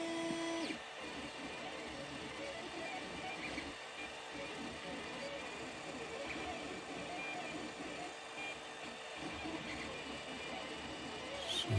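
A 3D printer prints a small axle hook for a toy dragster, giving a steady mechanical whir with shifting stepper-motor tones that runs continuously at moderate loudness.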